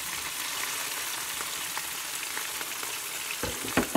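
Eggs and rice sizzle steadily as they are stirred in a hot pan, with a continuous bright frying hiss and a few soft scraping knocks near the end, close and moderately loud.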